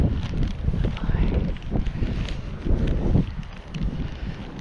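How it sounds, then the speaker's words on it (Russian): Cold spring wind gusting in Magadan, a steady broadband rush with low rumbling buffets against the microphone throughout, loud and close, with a few faint footstep-like taps. "Ну, как не пожаловаться на ветер?"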